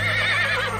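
A horse gives one loud, close, wavering neigh, brief and alone without talk.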